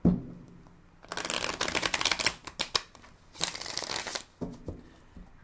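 Tarot cards riffle shuffled in two bursts of dense, crisp fluttering, close up and alone, with a few softer card taps and bridging at the end.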